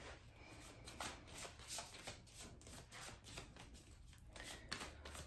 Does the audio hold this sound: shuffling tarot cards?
yes